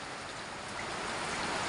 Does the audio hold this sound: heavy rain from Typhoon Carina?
yes